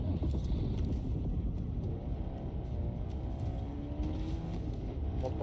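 A truck drives in a video game, its engine giving a loud, steady rumble that holds throughout with faint revving shifts.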